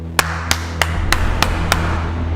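Six slow, evenly spaced hand claps ring out one after another over a low steady hum, a deliberate, sarcastic-sounding applause.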